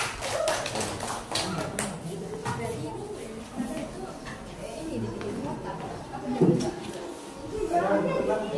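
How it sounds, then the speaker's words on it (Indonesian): An audience gives brief, scattered applause at a school presentation, the light tapping claps mixed with chatter while someone talks over them. "Oke, tepuk tangan dong."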